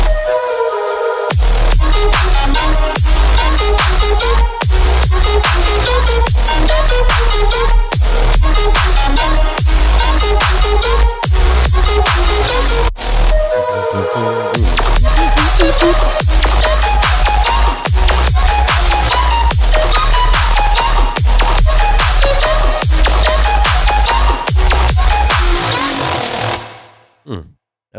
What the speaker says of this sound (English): Nice melodic dubstep, cool vibe, makes you want to dance, keeps it moving.